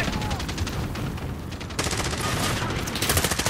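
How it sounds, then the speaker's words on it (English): Rapid automatic gunfire rattles continuously in the video game Call of Duty Modern Warfare Warzone, loud bursts overlapping one another with a slight surge partway through. "Taking fire!"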